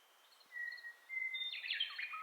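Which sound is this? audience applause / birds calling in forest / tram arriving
birds calling in forest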